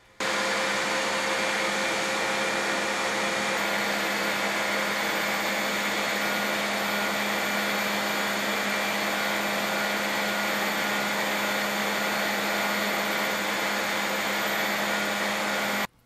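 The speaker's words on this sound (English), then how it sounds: "shaping it on my disc grinder" A disc grinder shapes a knife handle scale, giving a loud, constant high-pitched whir of abrasive against the workpiece that holds steady from start to finish, close and with no talking.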